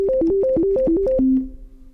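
A monophonic synthesizer plays a quick arpeggio, bouncing rapidly between a few plucky notes with a steady rhythm. It then settles on one lower held tone that fades out, loud and clear with nothing else audible.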